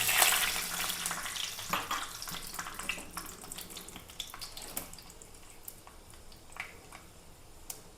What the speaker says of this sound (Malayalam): ചട്ടി വെച്ചിട്ടുണ്ട്, എണ്ണ ഒഴിച്ചിട്ടുണ്ട്, എണ്ണ കാഞ്ഞിട്ടുണ്ട്. നമുക്കല്പം ഉലുവ പൊട്ടിക്കാം.